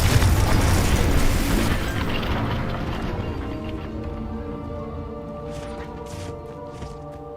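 A loud Confringo spell blast in the game Hogwarts Legacy, a heavy booming explosion up front that rumbles and slowly fades over several seconds, with a low mechanical hum and faint tinkling debris.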